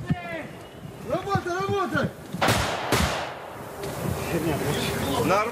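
Two sharp live-fire gunshots at a Russian military training ground ring out close together, partly under a man's ongoing speech.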